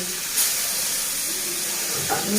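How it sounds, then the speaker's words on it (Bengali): Koi fish coated in salt and turmeric fry lightly in a pan, giving a steady close hiss and sizzle with a few faint clinks and soft background murmurs. "একটু হালকা করে ভেজে নিচ্ছি লবণ হলুদ মাখিয়ে"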